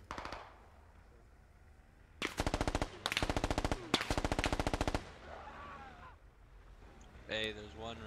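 Automatic rifle fire in a Squad military shooter game, heard as three loud close bursts of rapid shots separated by short pauses, with quieter game ambience and a brief voice toward the end.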